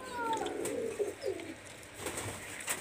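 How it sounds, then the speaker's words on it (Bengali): Teddy pigeons, a Pakistani high-flyer breed, give soft throaty coos close by, with a few rolling calls over a steady background hiss and no talking. "খুব ভালো মানের কবুতর, টেডি কবুতর"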